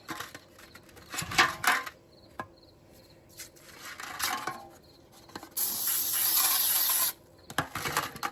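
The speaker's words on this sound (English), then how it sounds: "Spray your containers." A steady hissing burst of aerosol spray lasting about a second and a half, preceded by scattered clinks and kitchen handling noises.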